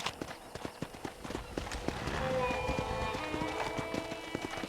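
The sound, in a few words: horse hooves in video game Red Dead Redemption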